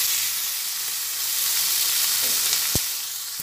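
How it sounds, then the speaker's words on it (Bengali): Onion, tomato and turmeric fry in a pan in a steady hissing sizzle, with stirring scrapes and a sharp utensil knock near the end, loud and close. "সব দিয়ে আবার ভালোভাবে নাড়াচাড়া করে নিয়ে ভেজে নিচ্ছি।"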